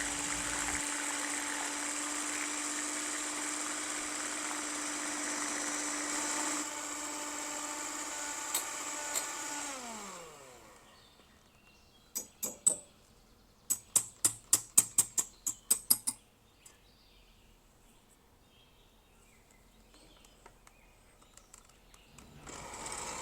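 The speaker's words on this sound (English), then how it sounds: "Whisk the egg whites with a mixer until they become fluffy and form soft peaks" An electric mixer whirs steadily as it whisks egg whites, its motor pitch dropping as it winds down, followed by a burst of clicks and taps from the beaters and bowl, then quiet.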